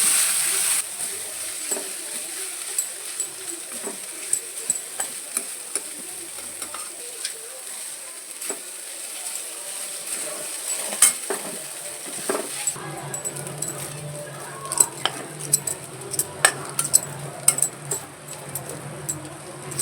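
Boiled hakka noodles are stirred and fried in a kadai, giving a quiet sizzle at first and then clearer scraping and tossing with sharp clinks and crackles close by, with no talk over it.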